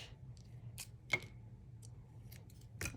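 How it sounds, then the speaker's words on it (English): Scissors cut a piece of yellow craft material in half with a few close, crisp snips spread over a few seconds in a quiet room. "I think I'm going to cut this in half."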